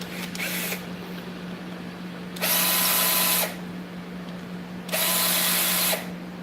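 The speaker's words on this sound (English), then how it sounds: "Why don't I just use my hand drill?" A hand drill whirs in short bursts while shaping a buckeye burl handle: a brief spin, then two longer runs of about a second each, separated by quieter pauses with a low hum underneath.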